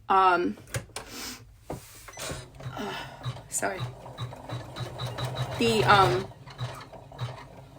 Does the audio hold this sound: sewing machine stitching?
yes